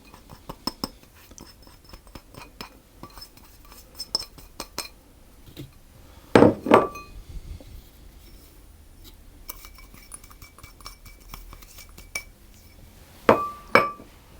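Flour, sugar, salt and citrus zest go into a bowl, producing scattered light glassy clinks and taps, with two louder, sharper clunks standing out against a quiet kitchen background.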